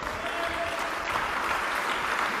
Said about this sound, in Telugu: నమ్ముతుంటే ఒకసారి చప్పట్లు గట్టి కొట్టి దేవుని స్తుతించు